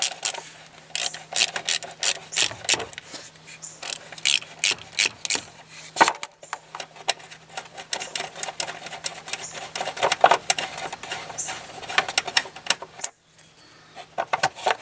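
Rapid clicking and metallic rattling of a bolt being worked out of an engine cover on a Ford, a busy run of close mechanical ticks with brief pauses, no talking.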